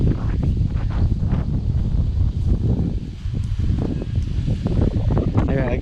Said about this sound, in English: I gotta hide behind this tree because it got windy all of a sudden.